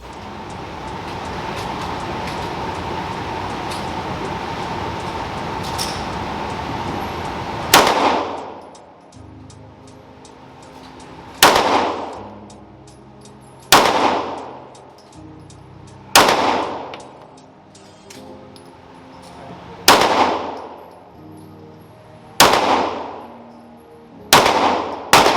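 Pistol shots ring out at a shooting range, about eight sharp, loud cracks spaced a few seconds apart, each with a short echo tail, following several seconds of steady background noise.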